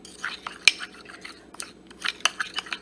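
A spoon clinks and scrapes against a small bowl while a paste of baking soda, toothpaste and coconut oil is stirred, giving light irregular taps and soft scraping, close and quiet.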